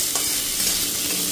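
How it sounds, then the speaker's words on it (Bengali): Greens fry in hot oil with black cumin and green chili, giving a loud, close, continuous hiss and crackle with faint stirring movement. "সবার আগে বসিয়েছি শাক ভাজা, তেলের উপরে কালো জিরে কাঁচা লঙ্কা দিয়ে শাকটা দিয়ে নুন হলুদ দিলাম"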